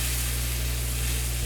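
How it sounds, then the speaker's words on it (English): Steaks or shrimp searing in a small hot pan give off a steady, close sizzling hiss with no break for the whole moment, and no one speaks over it. "let's lay these in here and see what we hear that sizzling sound"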